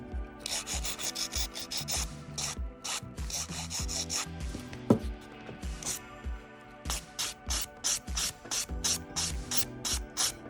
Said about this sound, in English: I'm going to use my Halo 100-180 and my Halo buff, and I'm just going to